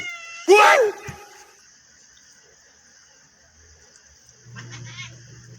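Several cats meow together, with one loud close meow standing out first and fainter calls following after a quiet stretch, indoors during a meal of bangus and ginamos.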